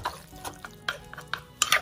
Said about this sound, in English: Okay, give it a light pound.